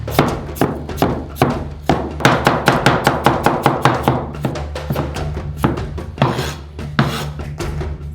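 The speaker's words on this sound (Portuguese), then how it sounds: "Cortamos em pedaços." A knife chops potatoes into pieces on a cutting board, loud close-up strokes in a quick, uneven rhythm of sharp thunks with short pauses between bursts.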